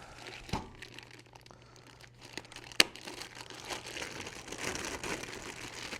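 Plastic packaging crinkles and rustles softly in close, irregular bursts while a Pioneer amplifier is unboxed, with one sharp crackle partway through and denser crinkling toward the end.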